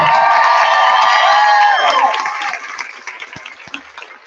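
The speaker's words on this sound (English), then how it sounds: "Give yourselves a round of applause." Rally crowd at an abortion justice protest bursts into applause and loud whooping cheers, then the noise thins into scattered claps and fades over a few seconds.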